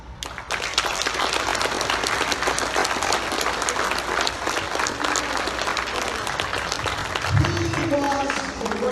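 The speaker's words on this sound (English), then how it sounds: "Let's give him another round of applause." An audience at the Hamvention 2019 youth forum breaks into sustained, dense applause that continues steadily throughout, with a voice briefly audible over the clapping near the end.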